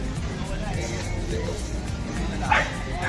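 Dogs bark and yip amid the crowd noise of a busy Pasig pet market selling dogs and cats, with a sharper yelp standing out near the end over a continuous low hum of chatter and voices.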